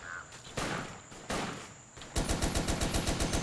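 Turret gunfire in the video game Toy Soldiers: War Chest, a couple of heavy single blasts followed by a rapid, evenly spaced automatic burst, loud and close with no talking.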